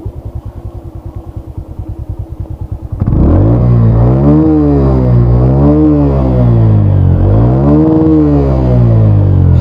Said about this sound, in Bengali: বাইকটা রাইড করে কিন্তু অনেক স্মুথ একটা সাউন্ড বাইকটার